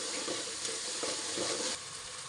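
Onion and tomato frying in oil for misal, a steady close sizzle with soft bursts of stirring through it, then a slightly quieter hiss at the end; no speech.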